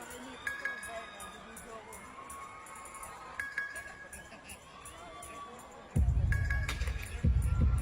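A live crowd at a Filipino Music Awards performance, distant cheering and thumping music, rising louder near the end, with a person talking over it close to the mic.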